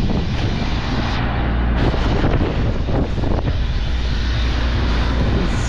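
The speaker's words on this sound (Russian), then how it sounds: "Ветер такой ужасный, да." Strong wind roars and buffets the microphone continuously, a loud broadband rush with gusty surges.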